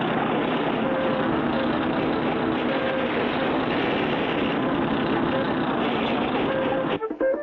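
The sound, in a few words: bulldozer engine pushing sand, from a cartoon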